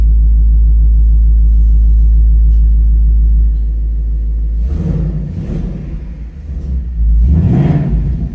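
2024 Ford Mustang GT V8 engine in sport drive mode, a deep loud idle rumble close by that dips, then swells into two throaty revs.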